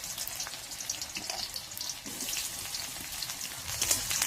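Onions fry in plenty of hot oil in a wok, giving a continuous bubbling, crackling sizzle with bright spattering pops throughout.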